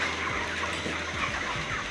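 Backyard chickens raised for sale in Lucban, Quezon give a quick series of low clucks over steady ambient noise, close and moderately loud in a short burst, with no talk.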